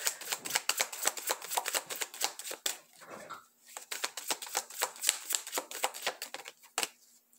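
Career oracle cards being shuffled during a tarot-style reading, a rapid run of crisp riffling flutters with a short pause midway, close and fairly quiet, with no voice.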